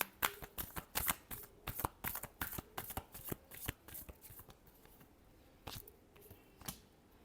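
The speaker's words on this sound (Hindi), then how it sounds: "last shuffle" Tarot cards being shuffled in a steady run of crisp riffling flicks and slaps, loud and close at first and gradually thinning toward the end, with no voices over them.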